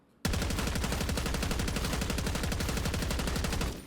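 A GPR-91 assault rifle with the Ginger Dread blueprint fires in Black Ops 6, a single loud, unbroken full-auto burst of rapid, evenly spaced shots lasting about three and a half seconds, then stopping abruptly.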